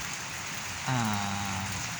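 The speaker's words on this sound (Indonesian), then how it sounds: "di sini suasananya rintik-rintik hujan nih kawan dari tadi" Light drizzling rain patters as a soft, even hiss in the afternoon at an old prince's tomb beside ancient Hindu-Buddhist remains, and a low humming tone joins partway through and holds to the end.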